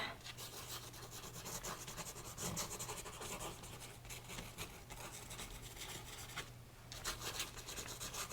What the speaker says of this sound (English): So just some asemic writing here, scratching back into the paint.